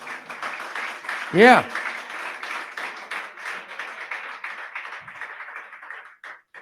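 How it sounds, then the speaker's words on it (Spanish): An audience applauds briefly at a Spanish-language cultural show, a short burst of clapping among ongoing talk. "Fuerte el aplauso."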